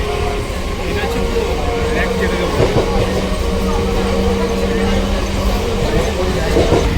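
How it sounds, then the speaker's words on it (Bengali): A train rumbles steadily along the rails at close range, with metallic tones and faint voices murmuring beneath the continuous noise. "ট্রেন"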